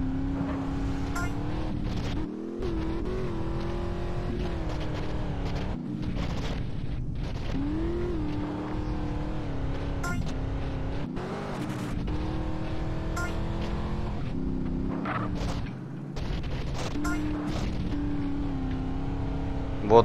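A car races through a mission in GTA San Andreas, its engine a steady droning hum that rises and falls as the driver speeds up and eases off, continuous and close throughout.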